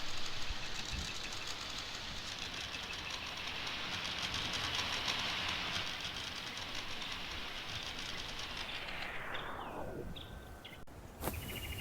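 Class 313 model train on an outdoor Ro-scale garden railway, rolling past with a steady mechanical whir and rail noise that fades away near the end, followed by a brief click.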